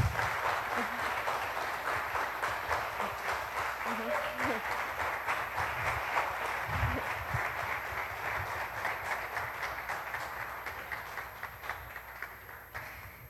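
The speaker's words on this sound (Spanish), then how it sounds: "muchísimas gracias a don Miguel Romero, un aplauso para él, por favor" A room full of people applauding, dense clapping that holds steady for several seconds and then slowly thins out.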